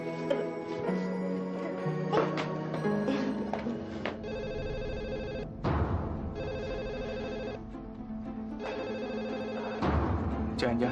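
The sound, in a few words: telephone ringing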